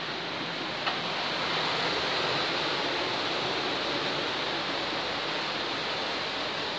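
A nearby waterfall makes a steady, loud, broadband rush of falling water beside an abandoned house, unbroken throughout.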